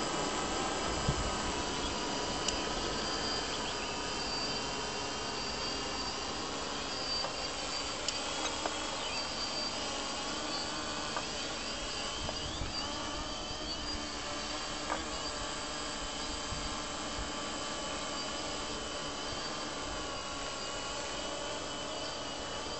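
A drone hovers in brake flight mode during a test flight, its steady high-pitched motor and propeller whine droning continuously and loudly throughout, with no talk.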